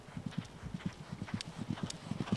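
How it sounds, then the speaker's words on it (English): A racehorse at Springdale Race Course walks before gallop practice, its hooves clip-clopping in a steady, even rhythm, close and clear throughout. "Bernie Dalton is making sure his horse Saban is ready to practice his gallops."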